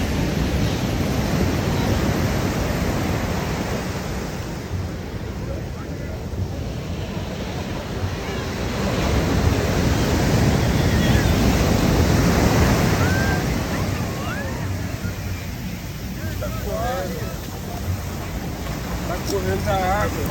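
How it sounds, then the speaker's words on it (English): Ocean waves roll onto Leblon beach in Rio de Janeiro, a steady wash of surf with gentle swells, wind buffeting the microphone, and faint distant voices. "the waves gently touching the shore"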